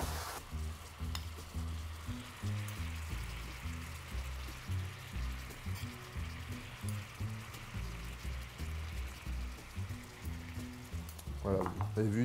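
Duck legs in a pan being deglazed with white wine, a steady loud sizzle and bubbling frying noise running throughout with brief stirring.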